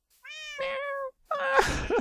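An ocelot in the Minecraft video game gives two clear, fairly loud meows, a short pause between them, with no talk over the sound.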